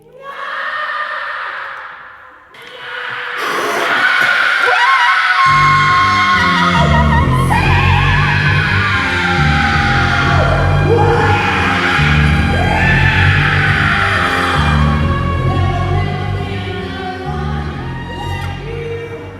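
Several voices scream and yell together in a loud, sustained layered wall of sound, opening with a shorter burst before a brief dip and then building into a dense, continuous howl, part of a Berlin fringe noise performance.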